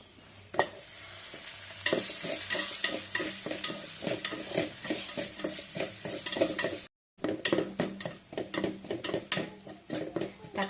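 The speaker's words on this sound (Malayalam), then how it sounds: "അതിലേക്ക് ഒരു ചെറിയ തക്കാളി അരിഞ്ഞത് ചേർത്ത് വഴറ്റുക" Chopped tomato sautés with onion and ginger garlic paste in a pan, a spatula scraping and stirring in quick repeated strokes over a soft sizzle, with a brief gap partway through.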